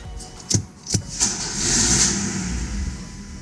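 An engine on a car with 3D printed carbon fiber nylon drivetrain parts cranks in a few uneven bursts, then catches and settles into a steady running note, close and fairly loud.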